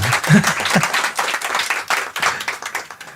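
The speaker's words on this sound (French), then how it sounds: "Vous pouvez l'applaudir, évidemment, bien sûr." A studio audience claps for a singer during a radio interview at Nostalgie Belgique, with close, lively applause in uneven swells and a brief voice near the start.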